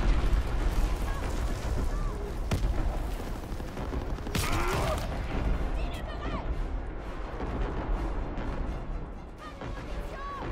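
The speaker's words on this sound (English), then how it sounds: "Firing primary battery." Naval primary battery artillery strike in Call of Duty WWII, heavy booming blasts and rumbling impacts layered over continuous battlefield din, with a sharp crack near the middle and voices talking throughout.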